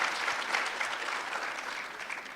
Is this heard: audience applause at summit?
yes